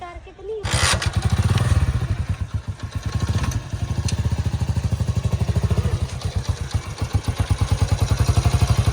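A nearby motorcycle engine runs with a rapid, steady putter that rises and falls slightly as it revs, loud and close throughout, while people talk over it.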